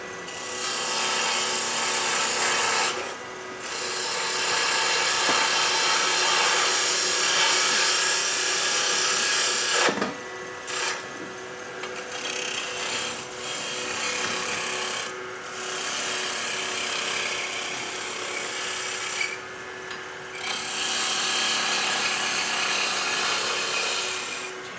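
A wood-turning tool makes a push cut on a spinning lidded box on the lathe: a steady, fairly loud rasping scrape that runs almost continuously, broken by a few short pauses as the tool lifts off the wood.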